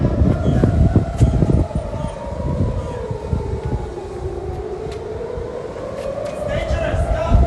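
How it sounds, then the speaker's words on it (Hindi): A loud air-raid siren wails during an Iranian missile attack on Israel, slowly falling and then rising again, over a rumbling background with people talking. "यहाँ पे सायरन हर तरफ से बज रही है"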